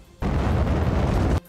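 A loud, sustained blast of missile explosions striking Russian tanks in a military convoy, a dense roaring burst lasting about a second with no voices.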